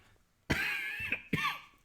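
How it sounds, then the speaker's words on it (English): Two sharp, close coughs about a second apart during a casual live whiskey tasting, each a harsh burst with a rough tail and no talking in between. "I don't know where this cough came from."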